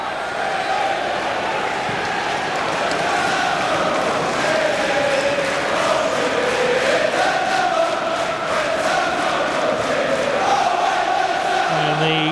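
Football crowd at an Ipswich Town v Birmingham City League Cup semi-final first leg, reacting to an Ipswich attack: a continuous, dense roar of many voices that holds steady for the whole stretch.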